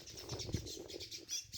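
A sparrow gives faint, rapid chirps as a cat catches it, brief thin calls over a quiet rustling background, with no talking.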